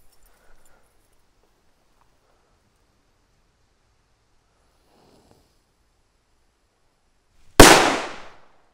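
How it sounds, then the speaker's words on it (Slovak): A red Muerte firecracker goes off in a tuft of grass outdoors after several seconds of near silence, one sharp, very loud close bang followed by a short decaying rush. "dáme teraz pre zmenu petardu Muerte červenú, tuto do tohto trsu trávy"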